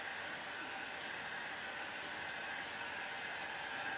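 A hot air gun blows steadily onto a dented plastic chainsaw case to heat out the creases, giving a continuous, even, fairly faint rushing hiss with no talk.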